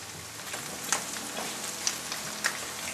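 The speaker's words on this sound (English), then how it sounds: "It's starting to get that nice cooked bacon look." Bacon sizzling in a frying pan, a steady crackling hiss with a few sharper pops spread across it, close and continuous with no talk.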